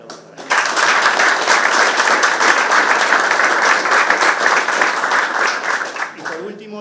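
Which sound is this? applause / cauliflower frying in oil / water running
applause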